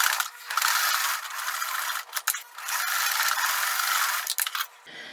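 A sewing machine stitches down the sides of upcycled shirt fabric, giving a steady, close mechanical whirring rattle in several long runs broken by brief stops and clicks.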